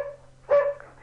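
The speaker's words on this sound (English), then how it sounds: "I think we're going to have to lose the barking dog" A dog gives a single short, fairly close bark with a brief whine around it, heard inside an early-1600s house that was once a pub, with a low steady hum beneath.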